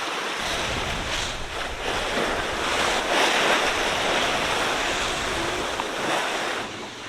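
Steady roar of sea waves mixed with gusting wind buffeting the microphone aboard an Allures 51.9 sailboat at sea, continuous and fairly loud throughout.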